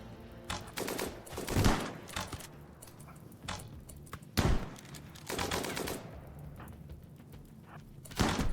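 Video game gunfire crackles in repeated bursts and single heavy shots throughout, loud and dense with thumping impacts, with no talking.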